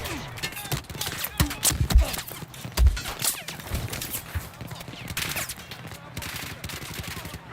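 Video game gunfire cracking in scattered bursts and volleys, some shots loud and near, others more distant, with voices talking intermittently over the shooting.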